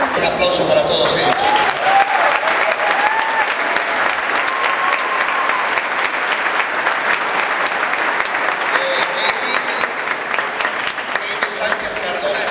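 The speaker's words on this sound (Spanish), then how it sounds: "Un aplauso para todos ellos." Church congregation gives sustained applause at a Sunday service as new deacons and deaconesses are called forward, a dense, even clapping that fills the whole stretch with occasional voices in the crowd.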